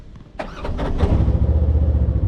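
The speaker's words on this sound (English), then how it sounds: "I'm gonna start the engine, put it into low gear" A Polaris RZR XP side-by-side engine cranks briefly, then catches and settles into a steady, loud low rumble close by, with no talking.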